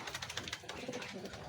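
Racing pigeons coo softly inside their loft, a faint continuous murmur of low calls under a hazy background.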